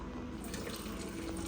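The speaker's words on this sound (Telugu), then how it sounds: "సరే ఇప్పుడు అయితే ఈ వాటర్ అందులో పోయా." Water streams steadily into a cooking pot for dal, a continuous close splashing rush with no speech.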